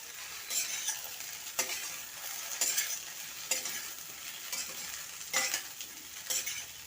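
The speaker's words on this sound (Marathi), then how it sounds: "छान आता फ्राय करून घ्या" Ingredients for cucumber dhokla are stirred and fried in a pan, with a steady soft sizzle under repeated scraping strokes of a spoon roughly every second, close up and with no talking.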